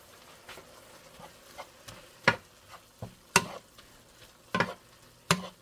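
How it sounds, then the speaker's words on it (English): Seasoned turkey taco meat is stirred in a pan, with a soft sizzle under irregular sharp scrapes and clacks of a spoon against the pan, close and alone. "Just give it a good little stir"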